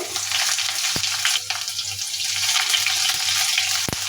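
Onions frying in oil with panch phoron and dried red chilies for a sweet pumpkin dish, a steady close sizzle with a soft low hum beneath and a couple of sharp utensil knocks, no voices.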